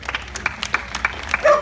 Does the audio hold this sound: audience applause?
yes